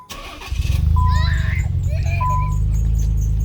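Idling 1993 Nissan twin turbo engine with a steady low rumble throughout, and thin high squeals chirping in short bursts over it, loud and close.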